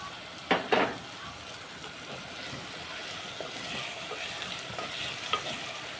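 Onions with turmeric and rock salt sizzle softly in a pan while being stirred, with a few close scraping strokes near the start over a quiet, continuous fry.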